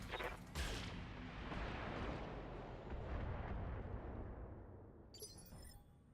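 Mech weapons in the BattleTech game fire all at once, a booming barrage that swells into a long rolling roar of explosions and slowly fades, with a crackling burst near the end.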